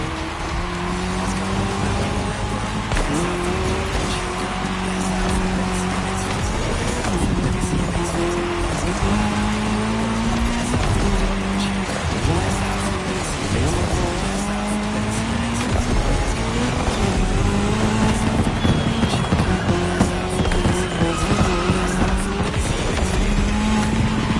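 Race cars tear across tarmac in the cross-terrain racing video game The Crew Motorfest, engines droning steadily with rising and falling pitch as gears shift, a continuous loud roar with occasional tire squeal.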